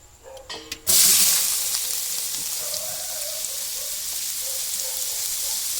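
Ginger drops into a very large cooking pot of hot oil with a loud, sudden burst of sizzling after some clatter, then fries with a steady hiss and crackle that stays strong to the end, stirred now and then.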